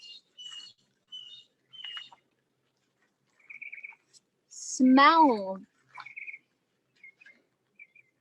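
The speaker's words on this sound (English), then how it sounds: "walk further here to the wonderful, pleasant atmosphere of the birds" Scattered bird chirps and tweets ring out in short bursts against quiet surroundings, with a brief voice speaking in the middle.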